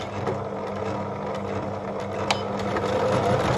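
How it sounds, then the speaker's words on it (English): A sewing machine stitches a fabric seam on a produce bag made from curtain scraps, giving a steady close mechanical whirring hum with light rhythmic ticking and no talking. "And then just finish sewing the rest of my seam."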